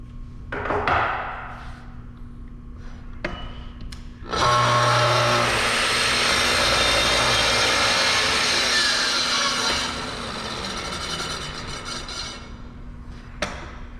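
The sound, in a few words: circular saw running down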